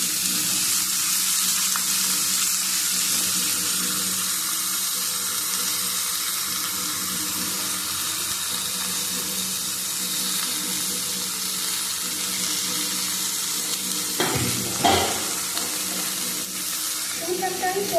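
Mixed vegetables fry in a pan with a steady, hissing sizzle that holds nearly level throughout, broken near the end by a few brief clatters of stirring, close by and without speech.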